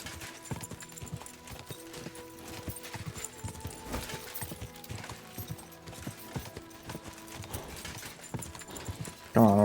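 A horse gallops in Kingdom Come: Deliverance II, hooves clip-clopping in a steady, fairly quiet rhythm throughout, with a sudden louder burst right at the end.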